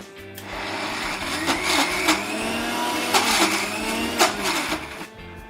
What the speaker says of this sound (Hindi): फिर हम इसको मिक्सी में पीसेंगे।